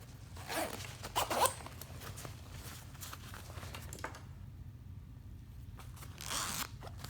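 A zipper on a hydration backpack's outer pouch is pulled in a couple of quick, rasping bursts, close by, followed by a quieter pause and another short zip.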